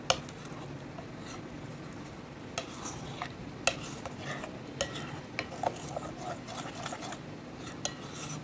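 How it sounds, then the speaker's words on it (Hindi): Chocolate walnut cake batter is folded by hand, with a soft, continuous wet stirring sound broken by occasional sharp clinks and taps of the utensil against the bowl, close and fairly quiet. "इसको भी आपने हल्के हाथ से अच्छे से मिक्स कर लेना है।"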